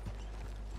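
A horse's hooves clop in the Red Dead Redemption 2 video game, a few soft, rhythmic thuds under a low ambient rumble in a short moment.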